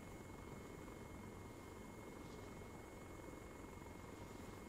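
A helicopter flies in a military tactical video game, a faint, steady rotor drone with a thin engine whine, continuous and distant, with no talking.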